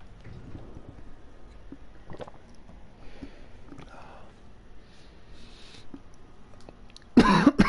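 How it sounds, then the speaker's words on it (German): A single sharp, loud human cough bursts out near the end, following several seconds of quiet, sparse background sounds from a co-op Resident Evil Revelations 2 game session. "Verzeihung fürs Husten."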